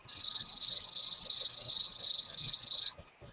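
Crickets chirp in a steady, fast pulsing trill that runs continuously for about three seconds and then stops abruptly, with no other sound alongside.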